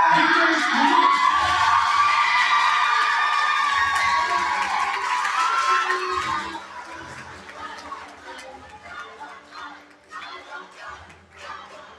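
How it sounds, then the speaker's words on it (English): An awards ceremony audience claps and cheers loudly, then the applause tapers off into scattered claps and crowd murmur as a voice begins speaking. "Please give a big round of applause from El Paso, Victor."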